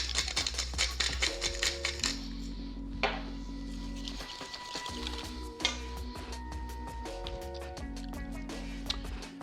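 Pepper grinder cranking peppercorns into homemade Caesar dressing, a rapid run of close, dry clicking and crunching ticks over a steady background hum, with no talk.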